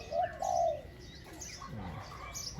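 Wild birds calling outdoors, a few soft cooing notes and scattered chirps at moderate distance against a faint background hiss.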